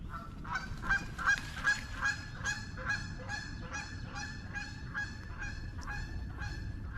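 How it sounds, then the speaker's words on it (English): A goose honks repeatedly in a steady series of loud, nasal calls, fairly close, against low outdoor background noise, by a creek mill race. "Very noisy goose."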